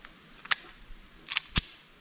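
A pistol fires Norma NXD defensive rounds, giving three short, sharp cracks that sound fairly distant and muted, with a pause between the first shot and the last two.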